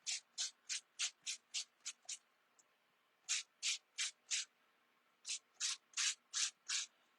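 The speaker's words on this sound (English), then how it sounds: "I'm going to take a little nail sanding block and I'm going to lightly sand this." Light, rhythmic strokes of a nail sanding block across white-core two-tone paper, three bursts of quick, even rasps separated by short pauses, close and crisp with no talk.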